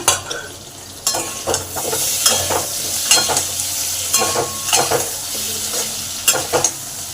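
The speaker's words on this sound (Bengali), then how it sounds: "আলুগুলো ভাজা ভাজা হয়ে এসেছে" Steady sizzling of potatoes frying in a pan, with stirring scrapes and clinks of a utensil recurring every second or so, close up and fairly loud.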